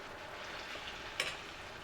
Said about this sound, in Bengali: একদিক আমার ভাজা হয়ে গেছে, এবার উল্টে দেব